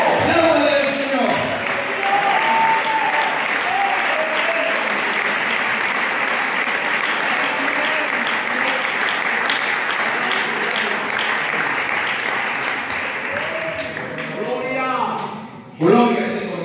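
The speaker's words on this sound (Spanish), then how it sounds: "¡Aplaude al Señor!" A church congregation breaks into sustained loud applause, with voices calling out over the clapping and a preacher's voice briefly audible near the start and end.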